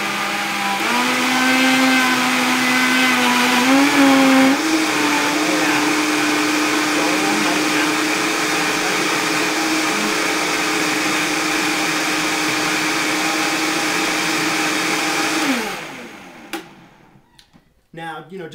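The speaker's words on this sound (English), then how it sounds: "just because I'm using the Vitamix here, you could use any style blender" A Vitamix blender blends a tightly packed ginger detox smoothie, whirring loudly and steadily close by for about fifteen seconds, its motor pitch dipping and settling, then cutting off to quiet, with a person talking over it.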